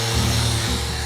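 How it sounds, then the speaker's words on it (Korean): A painted case gets a light sanding, a steady close rubbing and abrasive hiss lasting about a second, with no talk. "하루 지났더니 칠이 잘 된 것 같아서 샌딩은"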